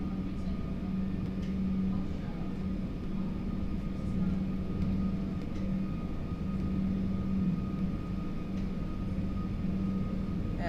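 Airbus A330 engines at takeoff thrust in the X-Plane 12 flight sim give a steady low rumbling drone with a constant hum running through it, moderately loud throughout under faint background voice.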